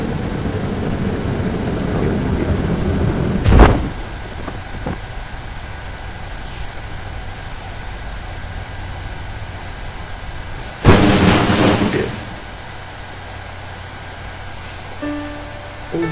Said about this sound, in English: Somehow we just had an explosion on landing.